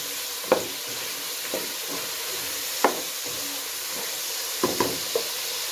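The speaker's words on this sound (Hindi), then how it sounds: "इसको अच्छी तरह भूनेंगे और ये अच्छी तरह कुक हो जाए।" Chicken pieces for a chicken and capsicum curry frying in a pan on a low, steady sizzle, with a few sharp scrapes of a spoon stirring them at irregular intervals, close and fairly quiet.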